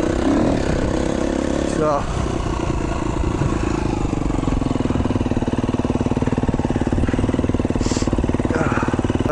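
A KTM 350XC-F enduro motorcycle engine droning steadily while riding on sandy trails, loud and close throughout, with a brief spoken word early on.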